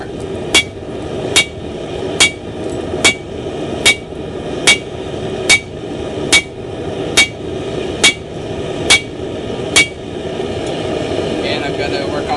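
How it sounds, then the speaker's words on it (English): A steel hammer rings out about twelve times on steel being forged into a camp axe, each sharp metallic strike evenly spaced under a steady background hum. "Just going to start whacking it with my hammer."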